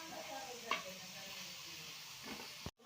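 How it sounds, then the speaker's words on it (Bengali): Tomato frying with onion and chili in a pan gives a quiet, steady sizzle with a couple of stirring scrapes and a brief clink, ending abruptly. "এবার এই পেঁয়াজ এবং লঙ্কার সাথে আমাদের এই টমেটোটাকে এখন ভেজে নিতে হবে"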